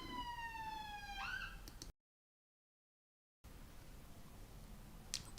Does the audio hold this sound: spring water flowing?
no